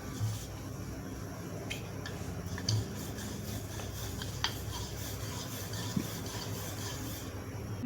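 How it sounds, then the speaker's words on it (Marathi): Stuffed cabbage paratha dough is rolled out gently with a rolling pin, producing faint, soft rubbing strokes with a few light taps and clicks against a quiet kitchen background. "हलक्या हाताने आपण याला लाटणार आहोत"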